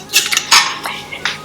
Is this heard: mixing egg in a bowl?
yes